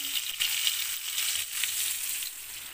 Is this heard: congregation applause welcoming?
no